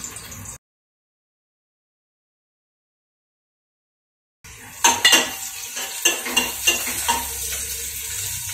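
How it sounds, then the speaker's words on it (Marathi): Crushed garlic cloves, five or six, drop into hot oil for a tempering in a home Malvani fish thali kitchen, giving a close sizzle with stirring and utensil clinks after a brief silent gap. "तेल टाकलेलं आहे आणि ह्या पाच सहा लसणीच्या पाकळ्या ठेचून घेतल्या आहेत, त्या आता फोडणीला घालते."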